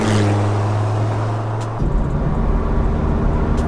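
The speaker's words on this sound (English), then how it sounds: "It's a very mellow exhaust, so it's not headers back. I believe it's cat back." Dodge Viper 8.3L V10 with a mellow cat-back exhaust, driving: a steady low engine drone holds, then shifts to a rougher, busier rumble partway through as the car changes gear over bumps, loud and close with no talk.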